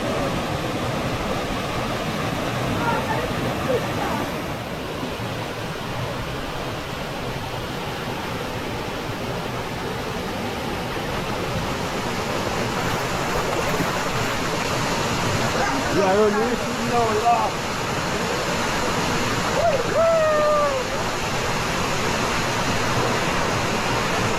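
Cool river water rushes steadily at Fish Dunn Falls in Portland, Jamaica, a constant broad roar of a waterfall and stream, close and unbroken, with faint voices now and then.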